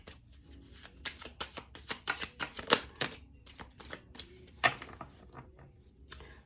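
A deck of playing cards being shuffled and handled: a series of soft, close, crisp riffling and tapping bursts at irregular intervals, quiet and alone with no talking.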